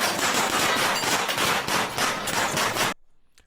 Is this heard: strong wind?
no